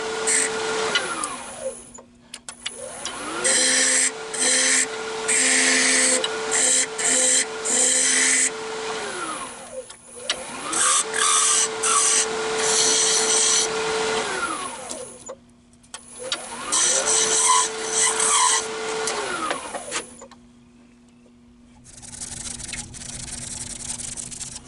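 Wooden bowl legs are roughed out on a wood lathe, the tool biting in long loud rasping passes over a steady motor whine, with short gaps as the lathe spins down and restarts.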